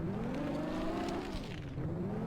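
A small car in the video game Amazing Frog drives steadily with a continuous engine drone whose pitch rises and dips slightly, with no talking over it.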